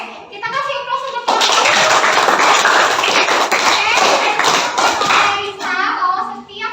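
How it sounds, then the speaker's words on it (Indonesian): A classroom of students breaks into sustained, loud applause, a dense burst of clapping that swells after a brief lull and fades toward the end, with faint voices at the edges. "Oke, kita kasih aplaus untuk"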